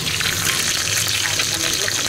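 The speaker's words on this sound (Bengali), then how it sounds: "আর এখানে ভেটকি মাছ ভাজা হচ্ছে" Bhetki fish frying in a pan gives off a close, steady sizzle, a continuous bright hiss with no pauses and no talk over it.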